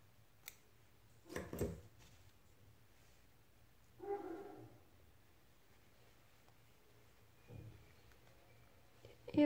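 Scissors snipping crochet yarn while finishing a fingerless mitten: a few faint, quick clicks and snips spaced apart over a quiet background hum, close by and with no talk.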